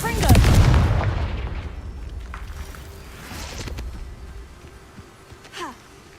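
A loud blasting explosion from the Confringo fire spell in the Hogwarts Legacy video game, a heavy booming burst at the start that rumbles away, followed by quieter crackles and a short sharp pop near the end.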